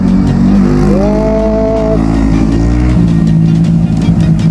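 Young men riding motorbikes during a cold-weather practice session; a steady engine drone runs throughout, with a brief tonal whine rising and holding midway before the motors settle back to a continuous rumble.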